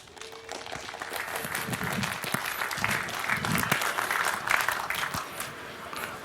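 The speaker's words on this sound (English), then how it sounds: "I would like to hear a warm round of applause for Reticulum" An audience applauds after a speaker is introduced at a talk, steady clapping that swells and then fades over several seconds.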